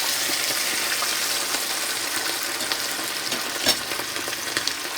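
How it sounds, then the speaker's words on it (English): Oil sizzles and crackles steadily as lane snapper and parrotfish fry two at a time, a constant close hiss with a few louder pops and no voices. "Don't crowd the pot when you're frying fish."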